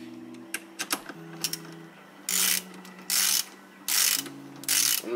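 A ratchet wrench tightens the bolt on a MOMO steering wheel during installation. A few scattered clicks come first, then four quick, close ratcheting bursts with short pauses between them.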